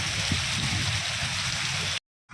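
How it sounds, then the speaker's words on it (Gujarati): Heavy wind-driven rain in Bhavnagar roars as a loud, dense, continuous wash, then cuts off abruptly before a brief return. "પવન સાથે વરસાદ છે"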